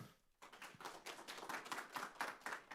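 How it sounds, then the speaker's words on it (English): Quiet round of applause from an audience at a book talk on adoption politics, a soft patter of clapping that begins after a brief pause and carries on unevenly, fairly faint and distant. "Let's give them both a big round of applause"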